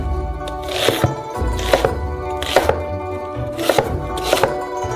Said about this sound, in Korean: 양파를 큰 조각으로 썰어주세요.